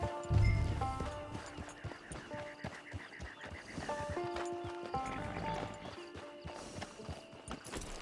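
A horse in Red Dead Redemption 2 clops and snorts at close range amid ambient music and background rustle, with hoof steps in a loose, uneven rhythm.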